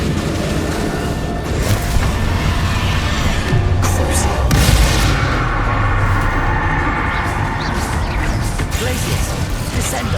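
Spell explosions from Hogwarts Legacy during a dragon battle, with repeated booms and crashing blasts layered over a dense, continuous din of game effects, loud and sustained throughout.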